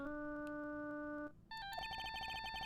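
Phone ringtone from the Ace Attorney video game, a bright electronic melody of repeating beeping tones that shifts to a higher, busier pattern after a brief pause, clear and alone.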